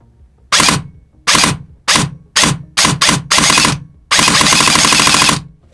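An Eshooter Kestrel V2 airsoft gun with a Bluetooth ETU fires short three-round bursts, then a longer stretch of full-auto fire, with close, loud, crisp mechanical rattling and no talk.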